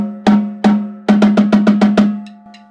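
Snare drum struck with the snare wires pulled off the bottom head gives a ringing, tom-like tone: two spaced hits, then a quick run of six evenly spaced strokes and a couple of faint taps, close and alone.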